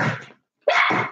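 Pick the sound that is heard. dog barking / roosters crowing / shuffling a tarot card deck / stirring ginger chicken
dog barking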